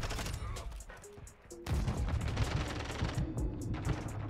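Gunfire in Call of Duty: Modern Warfare 2 ranked play, with a quieter opening that gives way to dense, continuous bursts of rapid shots and booms. A player talks over it.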